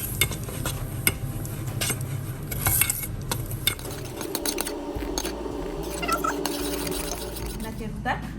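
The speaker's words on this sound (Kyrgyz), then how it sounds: "мына сахар эригенге чейин жакшылап аралаштырабыз" Sugar being stirred into syrup in a pot until it melts, for chak-chak, with a steady scraping and clinking of the spoon against the pot over a faint sizzle, continuing under occasional voices.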